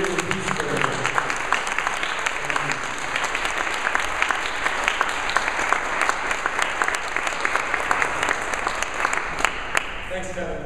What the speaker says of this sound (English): I'd like to give a round of applause for Charles Eisenstein and welcome him to Pittsburgh